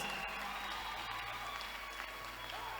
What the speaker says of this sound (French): If you want to clap, be generous.